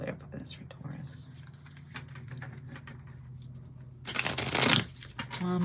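A Wild Unknown tarot deck is shuffled close up in soft, rapid riffling patters, building to a louder burst of card flutter near the end, with faint low murmuring underneath.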